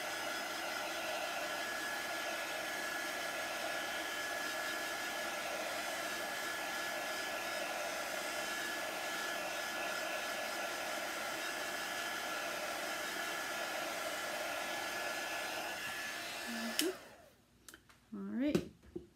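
Hair dryer blowing steadily on wet paste on a wooden beehive craft piece, a loud continuous whoosh that runs for most of the stretch before cutting off into brief handling noises.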